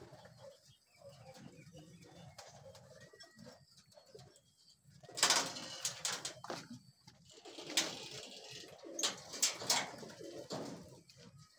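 Soft, low racing pigeon coos repeat close by, mixed with rustling, scuffling and a flutter of wings in a quiet space.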